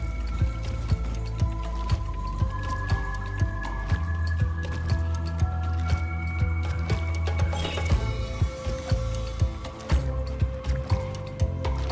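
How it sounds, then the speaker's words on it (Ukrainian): Slime in the video game Through the Nightmares drips in wet, squishy drops that keep a steady rhythm over an ongoing musical background. "Якщо прислухаєтеся, то жижа капає буквально в такт музиці."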